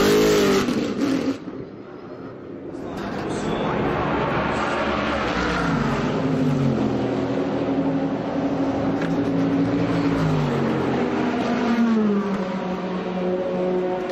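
Audi endurance race car during a pit stop at Sebring in 2013, with loud, sustained engine whir and revving close by that rises and shifts in pitch throughout, briefly dipping early before holding steady.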